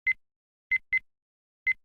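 Short electronic menu beeps from the video game Hearthstone: four brief identical tones, the middle two close together, clean and isolated against silence.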